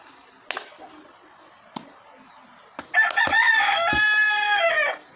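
After a few sharp knocks, a rooster crows once, a loud, long, ringing call lasting about two seconds, fairly close by.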